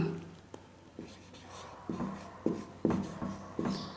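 Marker or chalk strokes on a board in a classroom-style Hindi grammar lesson, a series of short scraping taps in an uneven rhythm, near and fairly quiet.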